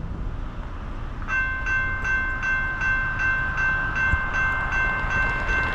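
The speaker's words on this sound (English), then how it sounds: "All right, Monday morning train action." A westbound Norfolk Southern freight train carrying two containers rolls past with a steady rumble while a repeating, pulsed chime or bell tone rings clearly above it, loud and close.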